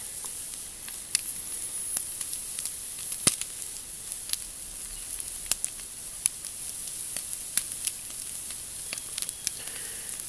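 Bologna sizzles in a small frying pan over a wood fire, a steady bright hiss dotted with irregular sharp pops and crackles throughout, with no voices.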